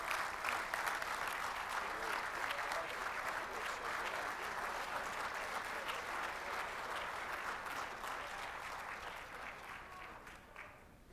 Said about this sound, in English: how about one more great round of applause for all of our state sportscasters of the year and all of tonight's honorees.